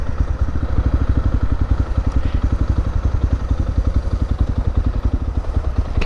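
A motorcycle on the Wild Atlantic Way rolling slowly into a square to park among other bikes, its engine close and loud with a rapid, even pulsing thump and a light clattering edge, no voices.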